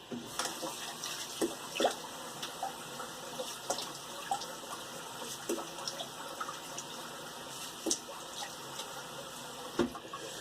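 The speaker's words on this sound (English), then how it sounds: "I am going to rinse my face" Water splashing while someone rinses their face after shaving: irregular wet splashes and drips at close range over quiet running water, with no voices.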